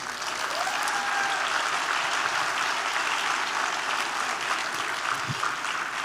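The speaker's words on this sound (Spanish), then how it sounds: "un aplauso para nuestro país" An audience breaks into steady, sustained applause for their country during a talk in Peru, the clapping dense and continuous from start to finish with no voices over it.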